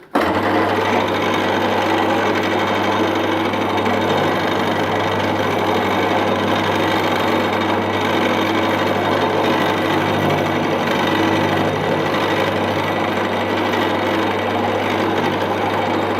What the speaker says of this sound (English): we've got a solid carbide cutter in there